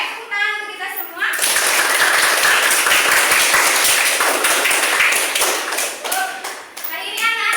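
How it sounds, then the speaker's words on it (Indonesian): Young pupils in a classroom clap their hands together in a loud, dense burst lasting several seconds, with children's voices speaking before and after. "Tepuk tangan untuk kita semua."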